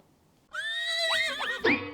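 A horse neighs in one loud, close whinny that rises and wavers for over a second before ending in a short snort, heard alone as a sound effect.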